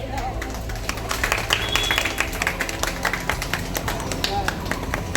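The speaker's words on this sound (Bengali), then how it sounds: "সকলে একটু জোরে করতালি দেবেন।" A crowd applauds steadily at a stage inauguration during an annual event, with dense clapping throughout and people talking over it.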